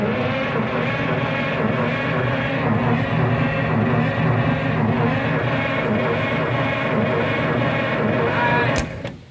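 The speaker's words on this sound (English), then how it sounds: "the guy cranking manually with help, the guy pushing the pedal is engaging the Bendix into the flywheel" An old Mack military truck engine is turned over by its starter during a compression test, giving a loud, steady churning drone that holds for about nine seconds and then cuts off abruptly.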